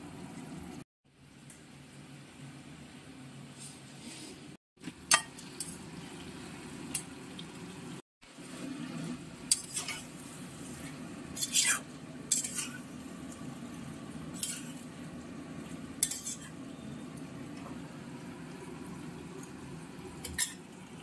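Jackfruit curry with yogurt being stirred and sautéed in a pan, spoon scraping and clinking against the metal in scattered light knocks over a steady low sizzle, with short breaks, close and moderately quiet.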